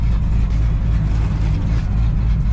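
A supercharged V8 muscle car with a big cam, heard close and loud as a steady, heavy idle rumble with a low throbbing pulse and a faint high whine over it.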